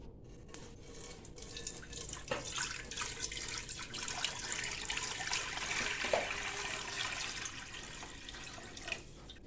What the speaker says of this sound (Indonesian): Air ke panci besar.